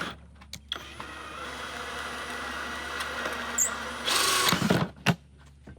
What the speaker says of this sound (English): Just start slowly putting holes in here and make sure that you don't crack the plastic.